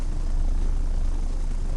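Helicopters in the strategy game Earth 2150 hum with a steady, dense rotor-and-engine drone, a continuous low rumble that holds evenly throughout at moderate loudness.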